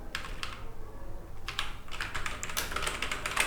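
A computer keyboard is typed on in quick, irregular bursts of sharp clicks. The keystrokes sound close and moderately loud over a steady room hiss, with no talking.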